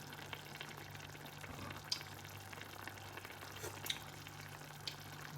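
Soft bubbling and light sizzling from a pot of rice with meat for plov coming to a boil, with scattered small pops over a low steady hum, fairly quiet and close.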